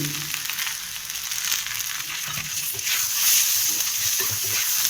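Kashmiri chillies sautéing in a pan for a spicy chilli chutney, a steady soft sizzle and crackle with faint scraping stirs, close and continuous with no talk.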